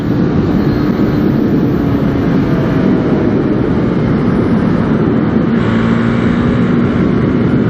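A KTM Duke 390 motorcycle pulls hard while riding at speed, a loud, continuous engine drone under heavy wind rush that stays dense and unbroken throughout.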